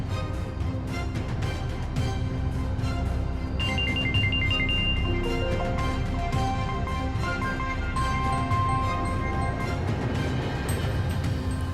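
A mobile phone rings with a melodic ringtone for an incoming call, the tune repeating steadily for several seconds, loud and close over a low background murmur.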